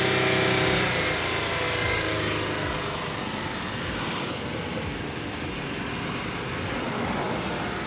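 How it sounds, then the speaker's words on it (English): A 2010 Honda Odyssey engine revs hard during a Seafoam carbon-cleaning treatment, a loud sustained roar that eases slightly and holds at high revs throughout, close to the microphone. "give it some more gas"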